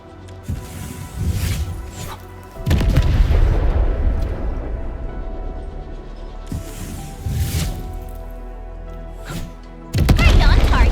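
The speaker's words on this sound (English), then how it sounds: "I give that explosion a 10 out of 10." Heavy booming explosions in the video game Arknights: Endfield: a deep blast rolls out around the three-second mark and rumbles on, then another sharp boom strikes near the end, all loud with game sounds around it.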